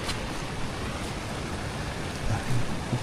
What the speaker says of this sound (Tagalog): It's raining ulit.